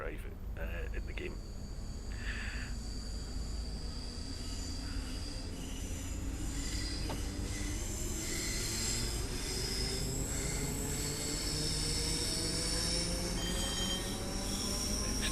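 A ScotRail train in a driving video game runs along with rumbling wheels, faint squeals and a rising motor whine, heard steadily under a voice talking.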